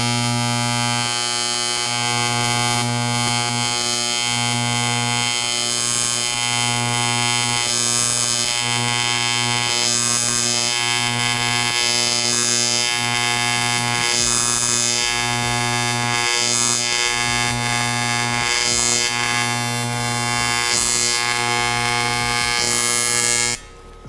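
An aluminum inside corner joint being TIG welded without pulse, using variable pedal control, gives a steady, loud electric buzz with a strong hum that runs unbroken for over twenty seconds before cutting off abruptly.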